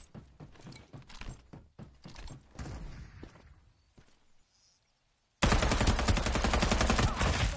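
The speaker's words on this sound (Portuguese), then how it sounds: "Tá com arma já atirando os malucos aí." Gunfire in a video game: several scattered sharp shots early on, a quiet gap, then a loud sustained rapid burst of automatic fire to the end.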